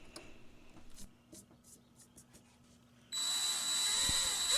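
A drill bores a 6mm hole into the fretboard of a vintage Hohner Shark fin guitar, a steady loud whine starting partway through after quieter handling taps.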